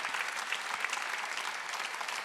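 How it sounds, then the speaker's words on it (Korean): A congregation at a Sunday worship service claps hard and fast, a dense, continuous burst of applause from many hands with no talking over it. "박수 세게 쳐요"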